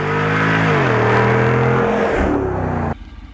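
A 2022 Jeep Wrangler 392 V8 roars under a hard mash of the gas pedal, its loud engine note climbing and shifting pitch over a few seconds before cutting off sharply into a lower idle rumble.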